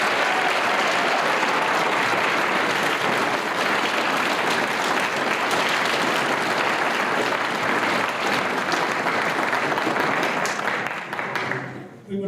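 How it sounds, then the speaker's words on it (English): Loud, sustained applause from a large crowd at a senior awards night, many hands clapping steadily for about twelve seconds before tapering off sharply at the end. "Please give them another round of applause."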